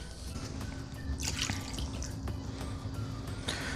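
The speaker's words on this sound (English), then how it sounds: "Top of that 1/4 cup of water, we're also gonna add in 1/2 cup of pickle juice." Pickle juice and water are poured onto raw chicken, making faint trickling and dripping liquid sounds over a low background hum. A brief splashier burst comes near the start.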